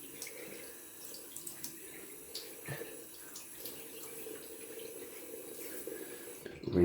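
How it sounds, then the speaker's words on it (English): Cold water runs from a bathroom tap into a sink in a steady, soft stream, quiet and unbroken, with a few faint splashes and no talking. "Gonna wet my face with some cold water from the tap."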